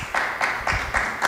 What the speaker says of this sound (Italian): L'applauso arriva da parte del cast, per cui è un po' di parte